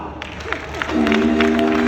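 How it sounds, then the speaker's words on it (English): An audience at the Ghana Football Awards breaks into applause, a crowd clapping and cheering that swells in the second half, while a voice and tonal music carry over it. "A big round of applause, ladies and gentlemen, for Coach James Kwesi Appiah"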